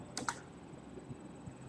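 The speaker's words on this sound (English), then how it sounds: "So I am typing debug space my file name exp4 dot exe," Keys clatter on a computer keyboard while a command is entered for an 8086 string-manipulation program, a quick cluster of two or three close taps at the start followed by faint room quiet.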